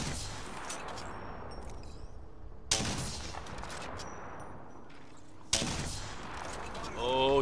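Gunfire in the Apex Legends battle royale game: sharp shots crack out at about 2.7 and 5.5 seconds over a steady bed of rapid firing and game noise, with a voice talking throughout.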